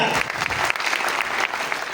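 Loud, sustained applause from an audience cheering a team at an event, dense clapping filling the whole stretch without pause.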